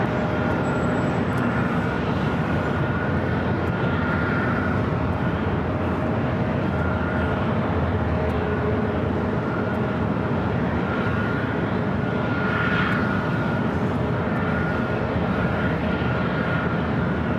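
Jet airliner rolling down runway 24 right at LAX, a steady broad engine roar with a faint whine, constant and fairly close throughout with no voices.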